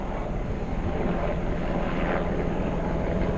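Continuous engine and rotor roar of a firefighting helicopter passing overhead at a wildfire in Middletown, California, steady and moderately distant, with no voices.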